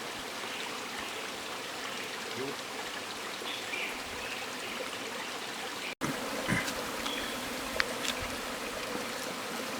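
A steady swarm of bees buzzes around a hive over soft trickling, rain-like patter, with a brief dropout midway and a few light ticks afterward.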